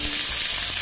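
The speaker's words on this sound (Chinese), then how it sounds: "然后给它煸一下，煸出大骨头里面的多余的油脂。" Beef bones sizzle and crackle steadily in hot oil with slices of ginger in a wok. The frying hiss is close and continuous, with no talking.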